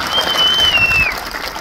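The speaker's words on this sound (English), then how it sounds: "give him a round of applause" Audience gives a short round of applause for an Air Force veteran, a steady dense patter of clapping with a faint high whistle briefly riding over it.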